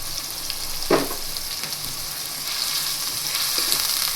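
Chopped green onions sizzle in a hot ginger, chili and garlic tempering, a steady crackling fry with a brief stir or clatter near the start.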